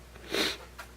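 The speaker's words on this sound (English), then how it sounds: "Excuse my allergies. I'm sniffling like a crazy person." A single short allergy sniffle through the nose, fairly close, followed by a fainter second breath.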